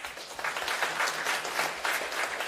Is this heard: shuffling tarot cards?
no